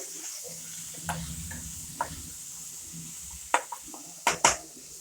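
Masala and coriander powder are stirred into a bean pod curry in a pan: a soft continuous sizzle with scattered scrapes and several sharp spoon clinks against the metal, louder toward the end.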